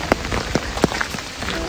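Rain falls outdoors in Austria, with irregular sharp drops tapping on a nearby surface over a steady wet hiss, close and fairly loud, with no voices.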